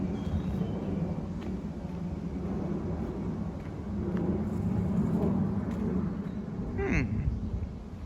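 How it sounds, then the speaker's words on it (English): Ducks quack intermittently along the Utrata River trail, fairly faint against a low outdoor rumble, with a brief sharper call near the end. "Still, the ducks are there."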